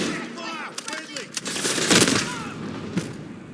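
Automatic gunfire from a Call of Duty Modern Warfare multiplayer match, dense bursts of shots mixed with game effects and voice callouts, loudest in a heavy volley near the middle.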